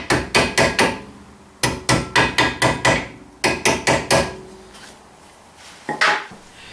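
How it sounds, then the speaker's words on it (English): Hammer taps seating a caliper spring on the rear brake of a Skoda Superb with an electronic parking brake: three close bursts of sharp metallic strikes, about five or six quick blows each, then one lighter tap near the end, loud and with no talk. "give it a wee tap with a hammer just to make it sure it's in place."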